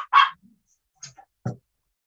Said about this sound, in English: my dog is very vocal.